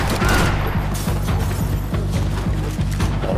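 Blind-fired gunfire in Max Payne 3 rattles off in a loud, steady barrage of rapid shots over a dense, constant low rumble of game sound, with no voices.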